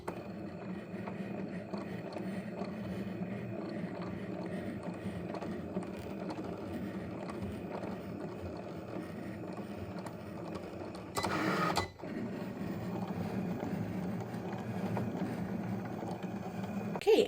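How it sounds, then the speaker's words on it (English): A Cricut machine cutting vinyl on a mat gives a steady mechanical whir and hum with faint ratcheting, broken once by a brief louder whoosh. "go ahead and get it cut in our Cricut machine"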